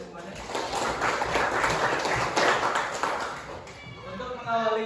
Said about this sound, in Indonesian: Silakan tepuk tangan untuk kita semuanya.